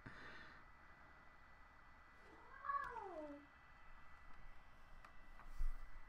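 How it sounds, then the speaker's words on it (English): A cat meows once in the middle, a brief rising-and-falling cry heard faintly behind a steady background hum. "Is that my cat?"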